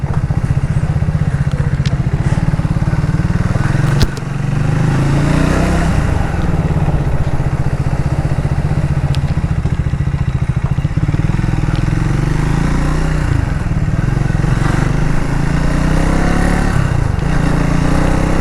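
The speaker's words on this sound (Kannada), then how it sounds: "ಇದು ಎಕ್ಸಾಸ್ಟ್ ಸೌಂಡು ಸಖತ್ತಾಗಿದೆ ಗುರು" A Triumph 400 motorcycle engine and exhaust run steadily and loudly up close, a continuous deep throbbing rumble with slight rises and dips in revs and no talking.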